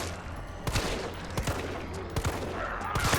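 Gunshots in Resident Evil 3 Remake, several sharp reports spaced irregularly over a steady low game rumble, loud and close with no talking.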